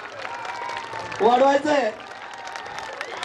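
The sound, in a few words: applause for the students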